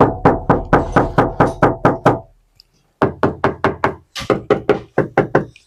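Knocking on the door panel of a Chery Tiggo Cross before sound deadening is fitted: about twenty sharp, hollow knocks in quick even runs, loud and close, with a brief pause partway and no talking.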